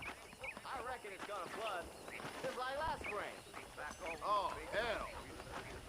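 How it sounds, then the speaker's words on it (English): Horse hooves clip-clopping in the Western video game Red Dead Redemption, a steady rhythmic trot running under continuous character dialogue. "Okay, let's see if you can still ride a horse."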